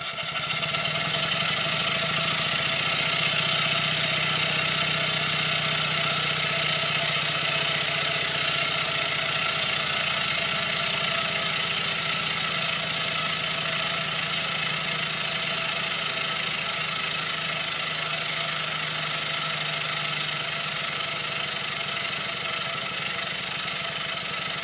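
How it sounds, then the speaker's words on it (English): A model steam engine runs steadily at high speed on steam, giving a continuous, even mechanical hum with a faint fast rhythm, close by and alone with no talk. "here's the engine doing what it does best, running using steam"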